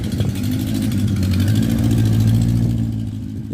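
A Yamaha motorbike engine runs with a newly fitted exhaust, a loud, steady, close rumble that holds a low throaty drone and rises slightly in pitch through the middle before settling, with no voices.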